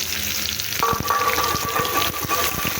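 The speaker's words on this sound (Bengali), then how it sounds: "পেঁয়াজটা হালকা ভেজে নেবো" Steady sizzling of onions frying in hot oil in a pan after fish, with a few metallic clinks of a utensil stirring the pan.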